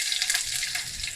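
Mustard seeds splutter and sizzle in hot oil in a home kitchen at the start of a bitter gourd stir-fry, a steady close hiss with small pops and no talk.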